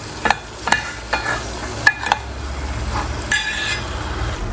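Bitter gourd is stirred into fried black masala in a pan, with a soft continuous sizzle under a string of sharp spoon scrapes and clinks against the pan, spaced irregularly and fairly close.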